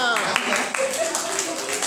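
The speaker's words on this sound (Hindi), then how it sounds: "तालियां" Brief clapping breaks out during a Hindi quiz session for International Yoga Day after a participant answers correctly, a short burst of hands under a speaking voice.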